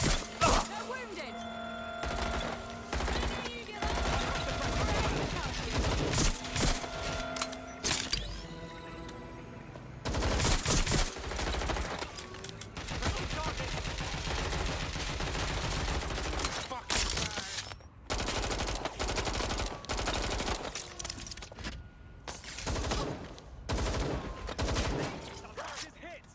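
Gunfire in the video game Watch Dogs Legion, dense bursts of shots and sharp cracks crowding the mix for most of the stretch with brief lulls between volleys, loud and continuous under game voices.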